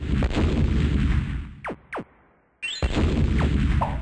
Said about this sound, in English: You place bombs, get power-ups, and find new creative ways to end your foes' lives.